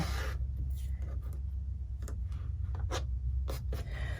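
A rotary cutter trimming a quilt block on a rotating cutting mat, heard as a series of short crisp scraping strokes at irregular intervals over a steady low hum, close and fairly quiet.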